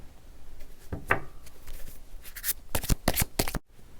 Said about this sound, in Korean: 두 사람의 상황에 대한 추가 카드를 조금만 더 뽑아볼게요